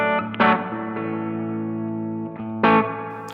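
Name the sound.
spring reverb on Crazy Tube Circuits Sidekick Jr pedal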